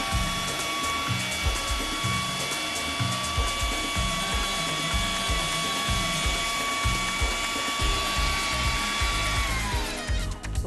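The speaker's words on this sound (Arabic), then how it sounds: "تعالى بقى نضرب الريحان والسبانخ والجبنه والزيت" An electric blender whirs steadily, close and loud, as it purées basil, spinach, cheese and oil into pesto. The motor holds a constant whine for about ten seconds, then spins down at the end.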